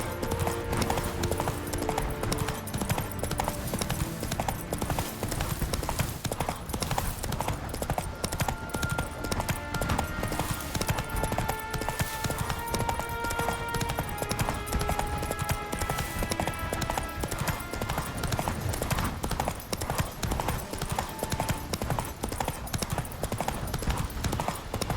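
Roach the horse galloping in The Witcher 3: Wild Hunt, with a continuous, fast, loud rhythm of hoofbeats under a game music score, with brief voices in places.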